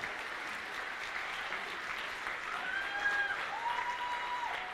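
An audience at a cosplay contest at the Swiss Fantasy Show applauds a contestant, continuous crowd clapping that swells slightly toward the end, with a faint whistle-like tone rising above it.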